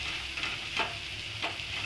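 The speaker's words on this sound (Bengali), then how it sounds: "ভালো করে আমি তেল ছাড়া পর্যন্ত কষে নেবো।" Spice masala with chaat masala frying in oil while being stirred, a close sizzle with two or three scraping stir strokes over the short stretch, no talking.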